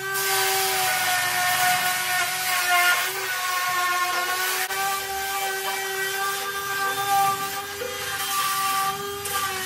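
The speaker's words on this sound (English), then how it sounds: "we're going to use some sandpaper and try and get something going" A steady, high-pitched motor whine with a gritty rasp runs without pause while the chassis of a racing lawnmower is sanded back, loud and close throughout.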